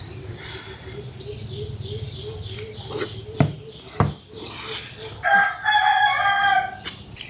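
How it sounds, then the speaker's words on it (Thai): A rooster crows loudly nearby, with clucking fowl and a few sharp knocks beforehand over a low background hum. "เช้ามาก็ได้ยินเสียงไก่ขันอย่างนี้"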